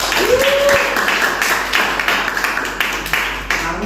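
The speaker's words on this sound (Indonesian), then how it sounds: "tepuk tangan dong" Students in a classroom clap in brief scattered bursts, close and moderately loud, with a teacher's voice sliding over the start and background chatter underneath.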